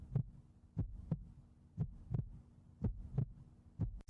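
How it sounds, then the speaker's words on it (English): Video game heartbeat effect, low double thumps repeating in a steady pulse about once per second, soft and muffled over a faint hum, with no voices. "I notice my heartbeat quickening."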